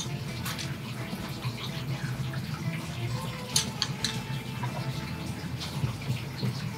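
Lemon juice pours into a tall tiki mug in a steady, splashing trickle, close and fairly soft against a low room background.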